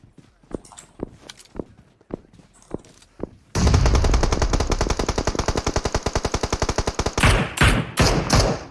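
Gunfire in the mobile battle-royale game PUBG Mobile: a few spaced single shots ring out, then a sustained rapid machine-gun burst rattles loudly for several seconds before ending in short separate bursts.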